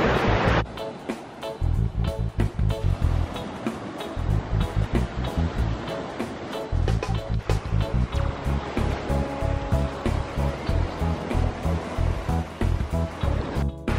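Ocean waves wash against a rocky South Wales shoreline with rockpools, a steady rolling surge that stays loud and close throughout with no voices.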